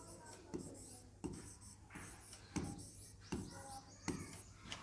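Chalk or marker strokes on a board during a Hindi-language maths lesson on speed and distance: short, rhythmic scratching bursts at regular intervals under quiet room tone, with a voice speaking softly in the background.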